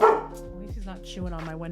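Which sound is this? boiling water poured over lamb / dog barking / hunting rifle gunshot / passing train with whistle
dog barking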